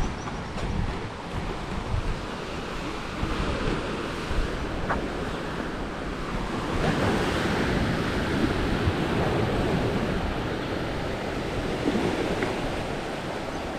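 Strong surf rolls in steadily at high tide on a Coron shoreline, a continuous roar of breaking waves mixed with heavy wind buffeting the microphone, no voices.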